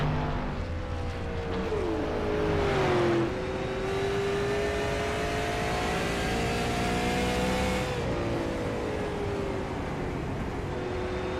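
A street stock race car runs a qualifying lap at the 2024 Sunshine Derby, its engine loud and close, revving with rising and falling pitch sweeps as it accelerates and lifts through the corners.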